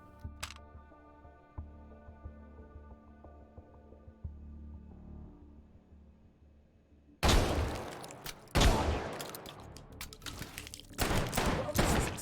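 Guns fire in the VR shooting game H3VR: after a quiet stretch of low mechanical hum, several loud sharp shots burst out in quick clusters, close and forceful.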